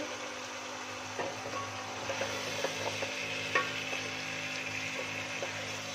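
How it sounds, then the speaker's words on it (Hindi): Turnips go into a pan of frying masala for a turnip and spinach dish, giving a steady low sizzle with a few soft stirring knocks over about six seconds, fairly quiet and with no talking. "इसमें हमने शलगम डाल देना है। मसाला हमारा तैयार हो गया है।"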